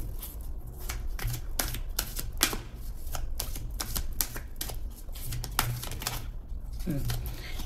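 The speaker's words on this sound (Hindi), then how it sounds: "एक बार शफल कर लें" Playing cards being shuffled in a series of sharp riffling bursts, close and fairly steady across the span, with a low hum underneath and a brief low voice toward the end.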